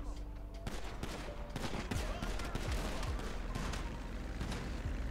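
Rapid bursts of gunfire from GTA V crackle loudly and continuously amid explosions and booms, with overlapping shots and heavy low rumble throughout.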